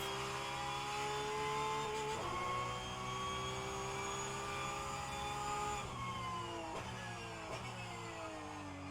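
Porsche 911 GT3 Cup 992 engine in the rFactor 2 racing game, a high, sustained rev climbing through the gears with distinct shift drops, loud and continuous without talk.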